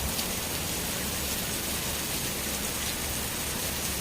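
Steady, dense rainfall pattering on surfaces close by at a park, an even hiss of falling water throughout with no voices.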